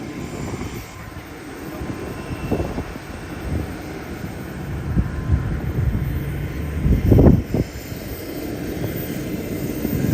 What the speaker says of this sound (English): once the plane's coming in, taxiing in